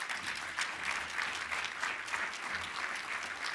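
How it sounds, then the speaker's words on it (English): A seated audience gives a speaker a warm round of applause, steady dense clapping from many hands filling the room for several seconds without a break. "Special round of applause"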